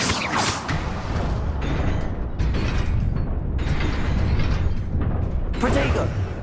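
Incendio fire spell cast in Hogwarts Legacy: a dense, roaring burst of crackling fire and mechanical whooshes that fills the clip at steady loudness, with sharper bright flares near the start and end.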